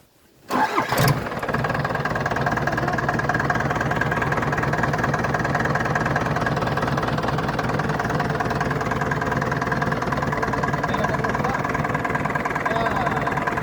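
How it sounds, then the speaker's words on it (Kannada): A vehicle engine cranks and catches suddenly, then settles into a steady, close, loud idle that runs unbroken, with voices faintly present in the background. "ಚಾಲು ಮಾಡ್ರಿ ಮತ್ತು ಗೇರ್ ಹಾಕ್ರಿ"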